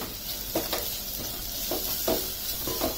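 Spices for Kolhapuri misal roast in a pan with a soft continuous sizzle, punctuated by a few brief scraping stirs of a spoon against the metal; no one speaks.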